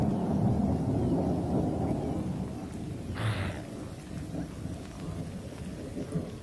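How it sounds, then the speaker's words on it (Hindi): Summer rain in the savanna, falling steadily with a continuous hiss and a deep rumble of thunder, the roll swelling briefly midway with no voices present. "और साथ में गर्मियों की बारिश।"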